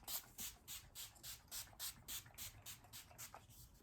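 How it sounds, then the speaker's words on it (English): Glisten Up makeup setting spray fired in a rapid run of about a dozen short, airy hissing bursts, evenly paced and close, with no talking. "I'm gonna take this Glisten Up spray"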